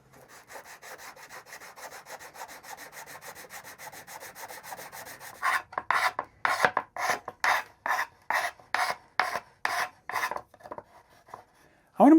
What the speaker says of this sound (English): we'll clean up that area with a flat sanding block